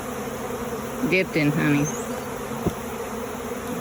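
Honey bees buzz around hives after a bear attack, a steady, moderately close hum running throughout while a person speaks briefly over it.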